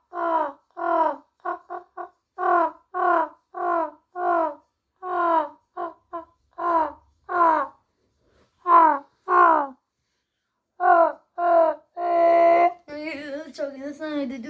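A voice mimics a crow goose call with a long run of quick, harsh caw-like yelps in uneven bursts, close and loud, ending in a drawn-out strained wail.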